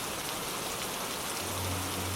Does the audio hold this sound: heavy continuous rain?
yes